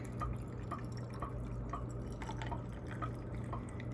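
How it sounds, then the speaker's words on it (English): Pink lemonade poured into a glass already holding vodka and raspberries for a summer cocktail, giving a steady near trickle with small repeated drips and splashes, no talking. "I'm gonna fill it up with my pink lemonade"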